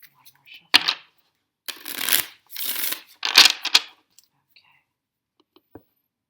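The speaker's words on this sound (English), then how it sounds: "One more shuffle." Tarot cards are shuffled by hand in several crisp riffling bursts separated by short pauses, close and clear in a quiet room.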